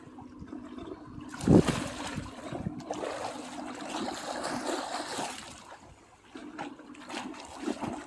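A child swims and splashes in a backyard pool in Kassel on a hot day. Water sloshes and trickles throughout, with one sharp, loud splash near the start and softer splashing afterward. No one speaks.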